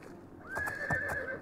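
A horse whinnies in the video game Oblivion, a rising then falling neigh mixed with clip-clopping hooves, moderately loud and close, with no talking.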